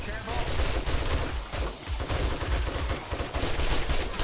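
Rapid gunfire in the video game 7 Days to Die, dense overlapping shots that form a loud, steady crackle throughout.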